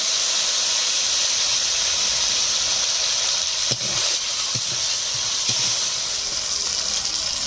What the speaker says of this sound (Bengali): এই তেলে দিয়ে দিচ্ছি গোটা সাদা জিরে আর আদা বাটা, দিয়ে দিচ্ছি টমেটো কুচি